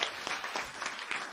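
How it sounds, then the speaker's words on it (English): A lone person claps slowly and awkwardly, about four or five sparse, uneven claps close to the microphone, with a faint room hiss between them. "awkward clapping from me"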